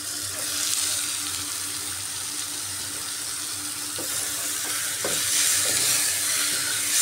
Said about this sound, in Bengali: চিকেন দিয়ে এবার মশলার সাথে ভালো করে খুব সুন্দর করে কষাতে হবে মশলাটাকে।